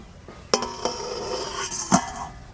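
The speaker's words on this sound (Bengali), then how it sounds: "এবার ঢাকা দিয়ে রেখে দেবো।" A lid is set over a pot of patishapta pitha soaked in milk, with a sharp metallic clink followed by lighter clatter and a second clank of pot and lid, close and fairly loud.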